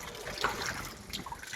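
Water pours and trickles steadily into a small swimming pool, a close, continuous splashing flow with no voices over it.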